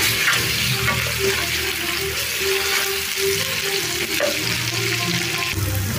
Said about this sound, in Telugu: ఒక 2 నిమిషాలు బాగా ఫ్రై చేసుకోవాలి అల్లం వెల్లుల్లి పేస్ట్ని